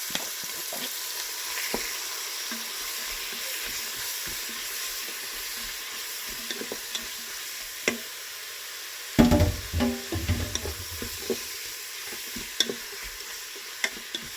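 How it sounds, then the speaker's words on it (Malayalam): Squid frying in a pan with onions and chili powder, a steady soft sizzle with scattered stirring clatters and a louder burst of sizzling partway through, close and alone with no voices. "അതൊന്ന് ഇളക്കി കൊടുത്തിട്ട് നമുക്ക് ക്ലീൻ ചെയ്ത് വെച്ച കൂന്തൽ ഇട്ട് കൊടുക്കുന്നുണ്ട്"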